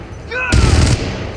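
A single burst of gunfire in the mobile battle royale game Apex Legends Mobile, loud and broadband for about half a second after a brief tonal cue, with no talk over it.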